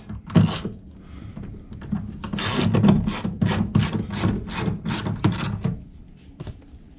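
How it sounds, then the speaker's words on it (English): A 10 mm ratchet turns a bolt while a Lexus CT200h front mirror is removed, giving close, rhythmic bursts of rasping clicks that trail off at the end. "Then we need a number 10 ratchet."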